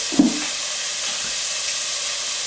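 Bacon lardons sear in a dry pan with no added fat, giving a steady, bright sizzle and hiss throughout, with a brief utensil knock near the start.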